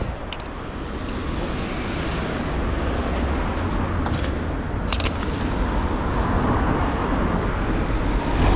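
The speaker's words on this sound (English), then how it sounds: "I'm just going to go onto this main road, just this roundabout" Road traffic flows on a main road at a roundabout, a steady broad roar of passing vehicles that swells slightly as it goes, continuous and fairly close with no talk.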